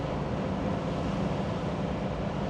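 A steady, loud V8 exhaust rumble from a 1966 Corvette convertible with a 327 engine drones without a break, dense and throaty across the whole stretch.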